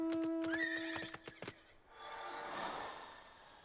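A horse in a video game whinnies loudly with a shaky, rising call, followed by a steady rushing wind-like noise.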